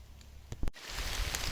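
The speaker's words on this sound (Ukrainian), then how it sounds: "дощ не дає збирати, падає" Rain falling in an autumn forest while gathering mushrooms, a steady broadband patter that thickens after a sharp knock partway through, with a few soft bumps of movement before it.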